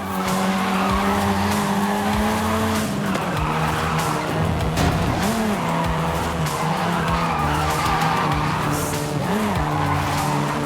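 Tyres of a seventh-generation Volkswagen Golf R screech in a long, continuous skid in Forza Horizon 5, loud and close over a steady engine drone, with pitch sweeps as the car slides.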